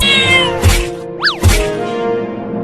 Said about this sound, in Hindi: उतर नीचे बिल्ली, तू बिल्ली।